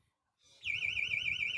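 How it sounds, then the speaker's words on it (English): An electronic buzzer at a sheepdog yard trial starts the timed run with a sustained, loud, wavering tone that holds steady after a brief softer onset. "As the buzzer signals time on, Timmy will have 12 minutes to get Will arou"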